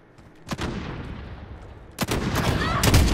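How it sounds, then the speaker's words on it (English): Sniper rifle shots in a snipers-only video game gunfight, two sharp loud cracks about a second and a half apart, each followed by a rolling tail, over quieter game ambience. "My bullet went right through this dude"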